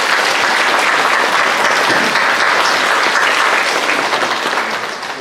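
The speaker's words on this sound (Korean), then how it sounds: "잘 보내기 위해서 격려의 박수 한번 할까요?" A church congregation gives loud, sustained applause of encouragement to a departing cellist, with the clapping holding strong before easing slightly at the end.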